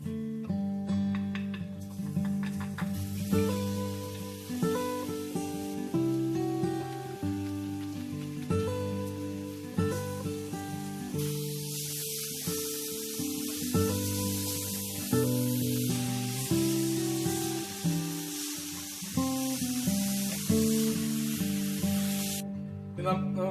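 Beef tipped into fried masala in a hot pan for a tapioca biriyani sends up a loud, sustained sizzling hiss that swells about midway. Background music plays throughout.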